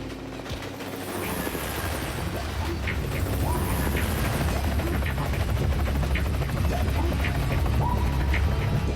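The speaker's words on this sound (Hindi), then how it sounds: "ये हेलीकॉप्टर से ट्रेन पे क्यों लैंड हो रहे हैं?" A helicopter's rotor thumps steadily and loudly throughout, a continuous chopping drone with mechanical rattling, staying close without fading.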